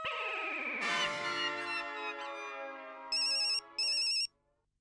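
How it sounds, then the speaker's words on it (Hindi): A phone ringtone plays, a bright musical tune followed by two short electronic ringing bursts before it cuts off. "जेठिया का फोन?"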